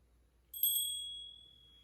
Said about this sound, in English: I rang the bell more softly the second time I rang it.